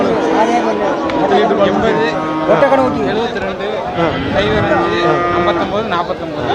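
Cattle moo repeatedly at a busy livestock market in Melapalayam, with long lowing calls rising over a constant crowd chatter and people talking.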